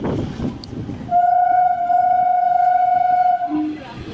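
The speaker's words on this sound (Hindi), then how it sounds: "और ये हमारी ट्रेन खुल चुकी है सोनपुर स्टेशन से" Train pulling out of Sonpur station in India, sounding a long loud steady horn blast for over two seconds, followed by a short lower toot, with rumbling rail noise underneath.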